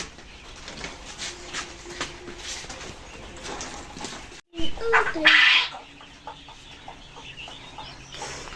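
Quail calling in a short burst of chirps and clucks near the middle, over a steady low background hum.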